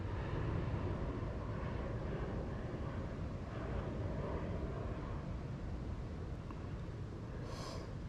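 Jet planes fly overhead during a morning walk at Yorkeys Knob, a distant, steady broadband roar that persists throughout under outdoor wind noise.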